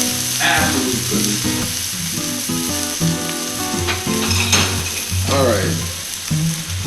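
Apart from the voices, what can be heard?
steak frying in a hot pan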